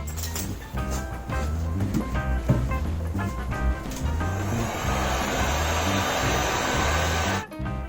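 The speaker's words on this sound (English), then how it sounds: "and then we're going to use a heat gun." A heat gun dries a zinc-electroplated part. Its steady, close whooshing blower noise builds over a background hum, holds for several seconds, then cuts off near the end.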